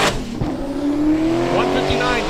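A drag racing car makes a pass down the strip at Great Lakes Dragaway, its engine droning steadily and rising in pitch over about two seconds, with an announcer talking over it throughout.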